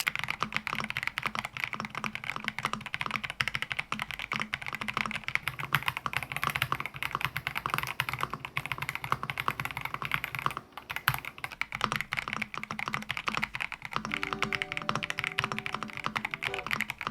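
Typing on an Epomaker budget wireless mechanical keyboard with a plastic case, gasket-mounted PC plate and hot-swappable PCB, producing a fast, continuous, fairly loud clatter of keystrokes close up.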